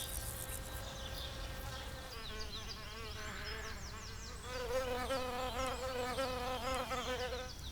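Wild bees buzz in a steady, close drone with overlapping wingbeat tones that grows louder and busier partway through.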